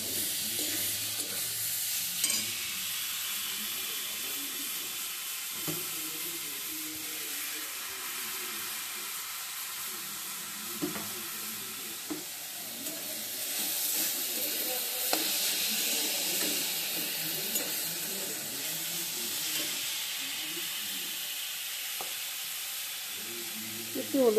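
Garlic sizzles in hot oil in a pan while being stirred, a steady quiet hiss with occasional scraping and tapping of the spoon, continuous and close.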